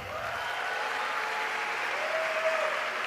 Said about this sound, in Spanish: Un aplauso para Bogotá, por favor.